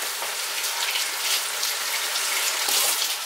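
Tomatoes rinsed under a running kitchen tap, with a steady, close, fairly loud wash of water pouring without a break and no voices.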